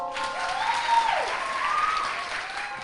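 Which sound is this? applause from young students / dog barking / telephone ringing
applause from young students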